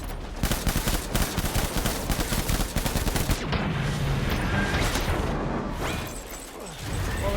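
Gunfire crackles in the video game Death Stranding, dense rapid bursts of shots for several seconds that thin out into scattered pops and rumble near the end.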